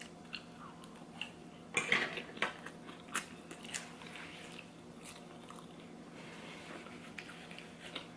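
Crunching bites and chewing of crispy vegan animal style fries, a few sharp crunches clustered early then softer intermittent chewing, close up and fairly quiet with no talking.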